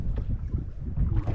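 Wind blowing across Mille Lacs lake on a breezy late-October day, a steady low rush and buffeting against the microphone with no voices.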